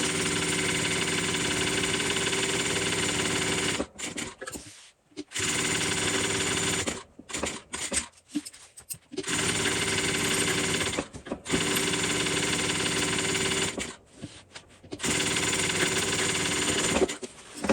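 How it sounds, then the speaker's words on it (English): A sewing machine stitches in steady, loud mechanical runs, basting foam onto a Coupeville tote bag, with several short pauses between bursts. "I'm going to baste my foam on"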